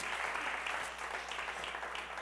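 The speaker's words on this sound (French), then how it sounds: "Est-ce qu'on peut l'applaudir?" A congregation in a church claps together, a soft, even wash of many hands that stays steady throughout, fairly distant and quiet, with no talking over it.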